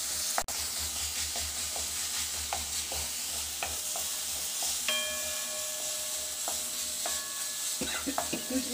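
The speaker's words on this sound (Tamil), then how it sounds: "இது 1-2 செகண்டு நல்லா வதக்கி கொடுங்க." Ground spice paste sautéing in a pan for a home dinner, with steady sizzling, repeated stirring scrapes and a sharp clink near the start, alone without talk.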